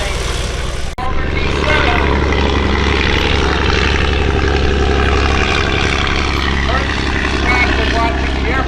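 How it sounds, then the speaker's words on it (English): A German Fokker D7 fighter plane takes off at an antique airplane aerodrome, its propeller engine roaring loudly and steadily nearby, with people talking underneath. "It's a German Fokker D7 fighter taking off right through the middle of our wedding."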